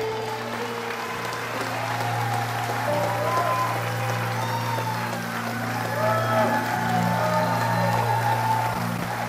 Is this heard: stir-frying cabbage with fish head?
no